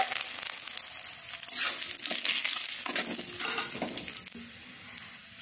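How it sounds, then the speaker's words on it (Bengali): Cinnamon pieces, dried chilli, bay leaf and whole garlic sizzle and crackle in hot mustard oil in a wok, a dense, close frying hiss with stirring scrapes throughout. "কড়াইয়ে আমি ছোট 2 টুকরো দারুচিনি, শুকনো লঙ্কা, তেজপাতা ও গোটা রসুন দিয়ে দিচ্ছি।"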